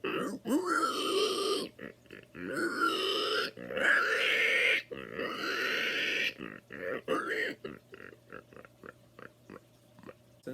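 A man vocally imitates a pig, producing a string of grunting, snorting oinks in bursts with short pauses, close and fairly loud, with no other sounds around.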